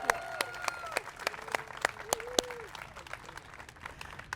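An audience applauds Chair Fletcher at a gathering marking a return to meeting in person, with scattered claps and murmuring crowd, voices calling out over it, moderately loud.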